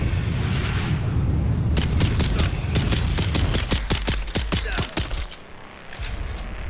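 Stone Sentinel turret firing in the Dune Awakening game: a rapid string of loud, sharp shots rings out over a low rumbling battle din, then breaks off as the noise fades away.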